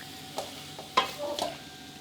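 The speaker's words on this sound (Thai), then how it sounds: "ดีผัดให้เข้ากันดีเลยครับ" Curry paste and pork stir-fried in a pan for Thai khanom jeen nam ngiao, with a few brief scraping stirs and light sizzles, close and fairly quiet.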